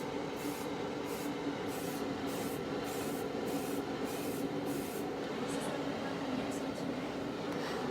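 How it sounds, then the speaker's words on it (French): A spray paint can releases a test coat in a steady, continuous hiss that holds for several seconds at close range, with no pauses. "Alors on fait, c'est comme toujours avec la bombe en peinture."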